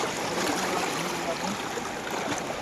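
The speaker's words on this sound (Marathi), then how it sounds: "समुद्राचा अतिशय वेगाने पाणी आहे" Fast-flowing sea water during a night crab-catching outing, a steady, loud rushing wash that stays constant throughout, with no voices.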